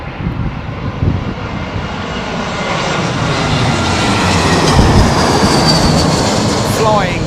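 A large airliner lands in storm winds at Heathrow Airport, its engines giving a loud, broad roar mixed with wind buffeting that swells gradually, with faint talk beneath.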